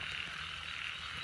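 Small frogs croak in a dense, continuous chorus in a field at night during a frog hunt, filling the background at an even volume throughout.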